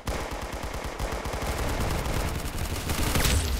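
Rapid automatic gunfire from the Roblox shooter game Arsenal, a dense burst of repeated shots at the start that blurs into a continuous loud barrage, heard alone without talk.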